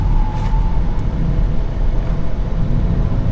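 A Honda Civic Type R driven hard at full throttle, a loud, steady engine roar with heavy low rumble and road noise heard up close throughout.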